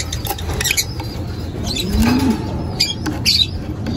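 An African lovebird hen flaps her wings inside a breeding cage with short, close fluttering bursts, a brief low coo-like call in the middle and light scratchy rustling between them.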